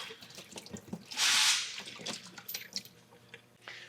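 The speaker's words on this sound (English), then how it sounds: "final stage of purification comes out of the resin chamber." Purified water pours from the resin chamber of a water purifier in a short, bright rushing splash that swells to a peak for about half a second, surrounded by softer drips and trickles.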